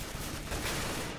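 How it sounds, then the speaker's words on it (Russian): Rapid gunfire in the video game CS:GO, a dense, noisy burst of shots that runs through the whole moment at fairly low level with no talk. "Все три патрона выстрелил, попал в него."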